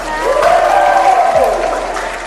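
Audience applause at an Indonesian talk event, a steady, fairly loud wash of clapping lasting about two seconds, with a rising and falling tone running through the middle.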